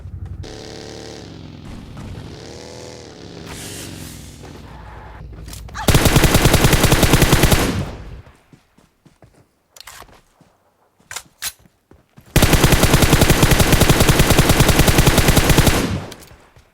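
Loud sustained automatic gunfire in PUBG Mobile comes in two long bursts, a few scattered single shots between them, after an opening stretch of music-like game sound.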